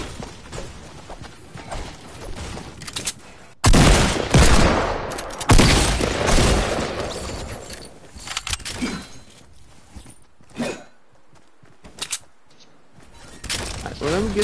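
Gunfire in the Fortnite video game, a loud burst of shots followed by scattered sharper cracks and clatter, mixed with quieter in-game movement sounds, no talk.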